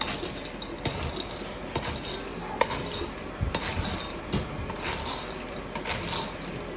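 Adobong mani, fried peanuts, being stirred and mixed in a pot: a steady dry rattling and scraping runs throughout, dotted with sharp clicks from the utensil, close and fairly loud.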